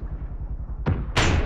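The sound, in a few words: mortar firing rounds in the video game ARMA 3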